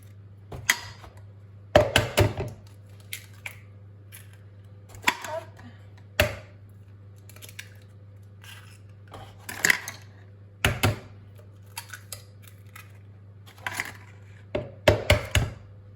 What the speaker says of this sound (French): Là, je vais casser les 6 œufs.